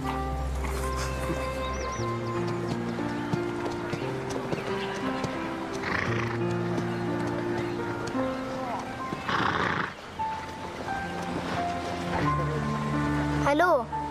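A horse is heard in a German countryside farm drama, with soft neighing and snorting under music and people talking, plus a short whinny near the end.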